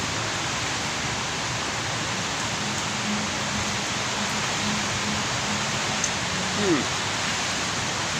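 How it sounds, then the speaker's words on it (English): Light drizzle falls outdoors as a steady, even hiss of fine rain that fills the whole clip, with a faint low hum underneath and a brief soft chirp near the end. "I'm getting a drizzle on the phone"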